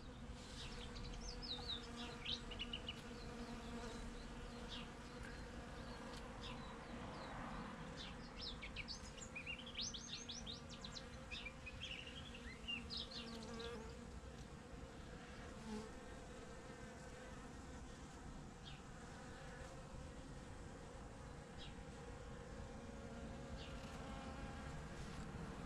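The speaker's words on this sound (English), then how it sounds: "This is just mainly the bees gathering pollen." Bees gather pollen from epiphyllum orchid cactus flowers in a garden, a steady close buzzing hum with individual insects passing nearer and louder, with occasional bird chirps in the background.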